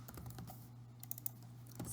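Typing on a computer keyboard produces a few faint, soft key clicks, sparse and quiet over a low steady hum.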